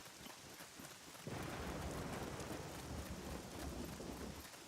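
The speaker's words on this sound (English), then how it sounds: "Okay, I heard thunder," Thunder in the survival video game Scum: a low, broad rumble swells in abruptly and rolls on steadily, quiet overall, with no voices.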